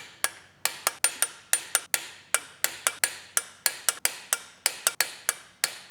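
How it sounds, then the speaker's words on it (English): Sharp, evenly spaced metallic ticks repeat about three to four times a second, close and crisp, from a torque wrench or ratchet tightening flex plate bolts in a star pattern on a BMW F10 engine with blue Loctite. "Now we're going to tighten just like a wheel in a star pattern to 60 Newton meters"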